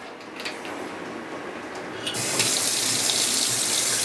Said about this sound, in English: I'm just going to give it a rinse for right now.